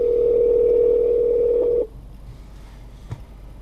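Steady dial tone from the hands-free phone system of a 2014 Honda Civic EX, holding loud and even for almost two seconds before cutting off abruptly, followed by quiet cabin background with a faint click.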